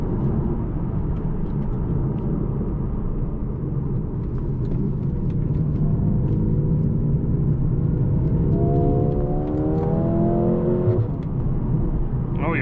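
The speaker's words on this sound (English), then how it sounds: "Straight into Sport Plus mode to check out how this car can handle the corners." A Mercedes CLA 35 four-cylinder engine pulling hard in Sport Plus mode, a steady deep rumble from inside the car climbing in pitch near the end.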